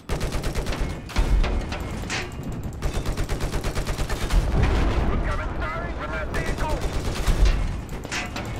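Gunfire in the video game Battlefield 4 rattles in rapid bursts with heavier booms mixed in, continuous and loud over game ambience.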